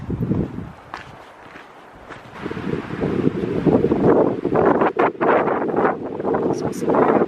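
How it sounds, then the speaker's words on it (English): Gusty wind buffets the microphone in uneven rushes, with footsteps and light rustling mixed in nearby. "It's also very windy, as you can see."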